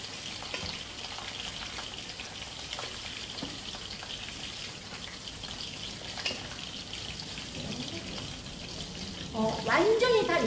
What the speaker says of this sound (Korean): 표고버섯과 생이버섯을 넣고요. 숨을 죽이듯이 볶아주세요.